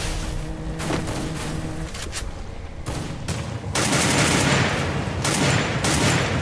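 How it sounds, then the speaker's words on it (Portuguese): Bursts of rapid gunfire crackle in the video game PEAK, with several separate volleys and a heavier, sustained barrage in the second half. "Tô tomando tiro das costas, Serol."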